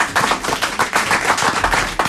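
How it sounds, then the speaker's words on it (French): An audience applauds at a French TV show, sending out a brisk, steady burst of many hands clapping at close range, with no talk. "on l'applaudit, c'est bien"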